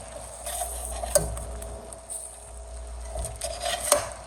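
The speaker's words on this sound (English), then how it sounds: "We're just gonna cook these for a few minutes and then take the shrimp out." Shrimp cooking in garlic butter in a pan, with a soft steady sizzle, occasional metallic clinks of a utensil against the pan and light stirring scrapes, close by.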